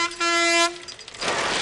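A horn fitted to a new pair of novelty glasses honks loudly in one short, strident blast and then cuts off, followed by a brief noisy rustle.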